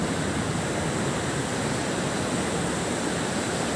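Ocean waves at Nglalong beach make a steady, loud, broadband roar of surf that holds constant throughout, with no voices.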